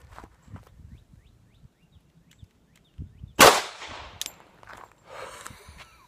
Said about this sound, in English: Time for the 45 ACP. I have this Gen 3 Glock.